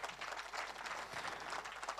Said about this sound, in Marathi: जोरदार टाळ्या वाजवायच्या म्हणजे